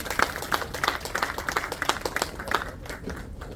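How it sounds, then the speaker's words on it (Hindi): Audience applause for a speaker at an Indian public address, a burst of clapping with sharp, distinct claps at a steady quick rhythm that thins out toward the end. "एक बार जोरदार तालियां।"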